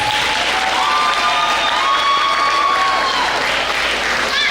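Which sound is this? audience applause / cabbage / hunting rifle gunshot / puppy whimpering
audience applause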